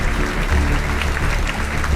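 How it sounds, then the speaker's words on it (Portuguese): A church congregation applauds during a sermon, a loud, close wash of many hands clapping that continues evenly for the whole stretch without a break. "Aplaude o Senhor Jesus."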